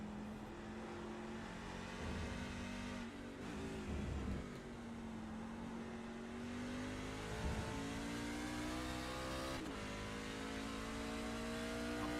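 A race car at the Red Bull Ring road course accelerating hard through third gear and up into fourth, its engine note climbing steadily with a gear change, continuous and fairly distant.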